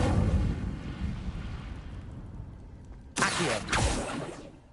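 A fiery Incendio spell in the Hogwarts Legacy video game erupts as a sudden loud whooshing burst partway through, then fades, after a low rumbling tail from an earlier blast.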